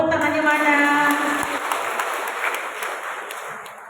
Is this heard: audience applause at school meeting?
yes